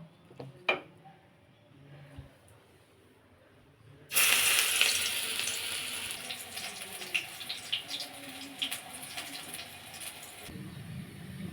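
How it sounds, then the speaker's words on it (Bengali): Drumstick flower fritters drop into hot oil. After a few quiet seconds with faint clicks, a loud, steady hiss and crackle of frying starts abruptly, continuing close by with occasional pops until it cuts off near the end. "এখন বড়ার আকারে ভেজে নেব।"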